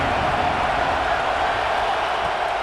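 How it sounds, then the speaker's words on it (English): Loud, steady roar of a big football crowd at Happy Valley stadium on a third-down play, a dense wash of noise sustained without break throughout. "Here comes the noise from this big crowd in Happy Valley on third down."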